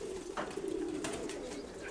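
Young pigeons coo softly in a short, faint low murmur, with a couple of brief flutters or rustles nearby.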